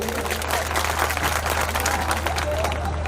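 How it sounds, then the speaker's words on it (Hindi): Sustained applause from an audience at a comic song and poetry performance in India: dense, steady clapping at moderate volume that fills the whole stretch, with a faint crowd murmur underneath. "एक बार आप लोग तालियां बजाकर बताइए"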